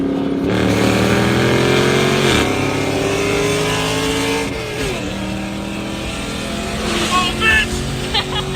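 A Ford Mustang S197 races a 2021 Dodge Charger Daytona automatic, with strong engine roar that climbs in pitch through hard acceleration, breaks at quick gear shifts, and keeps revving loudly for several seconds.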